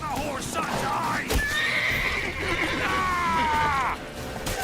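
A horse in The Witcher 3 video game lets out a loud, drawn-out whinny over the clatter of galloping hooves and background commotion, with a voice shouting nearby.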